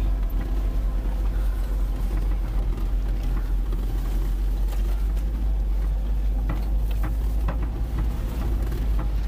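A Ford Transit van labours over a rough, muddy off-road stretch, its engine droning loud and steady throughout with a heavy low rumble as the wheels spin and slip.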